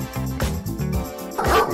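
A large, wild-sounding dog gives a few short, close barks and yips in quick succession, loud and alone for under two seconds.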